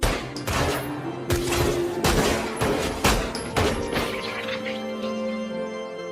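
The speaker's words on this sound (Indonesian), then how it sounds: "Takeru menjadikan tubuhnya sebagai tameng sambil menembaki anggota Kamizuno yang mengepung mereka" Rapid bursts of gunfire, loud and close, shots cracking in irregular volleys over a dense rumbling background.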